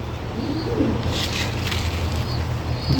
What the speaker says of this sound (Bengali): কবুতরগুলো অবশ্য খাবার দিলাম তারা খাচ্ছে অবশ্য পুরো মাঠ ভরে